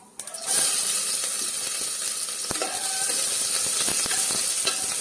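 Small shallots frying in hot oil after mustard seeds have popped, a steady bright sizzle with scattered crackles and a few sharp pops and stirring clicks, close and continuous.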